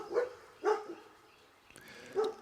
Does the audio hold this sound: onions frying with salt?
no